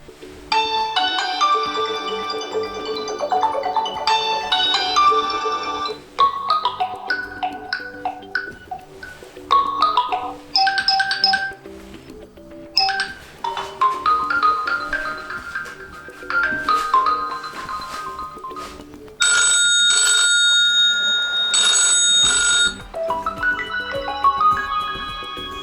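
A ringtone plays on a HUAWEI MatePad T8 tablet, a bright melodic sequence of chiming tones and layered electronic notes that carries on alone for the whole stretch.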